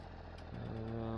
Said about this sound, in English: Listen to this, the note of this engine as it ticks over there.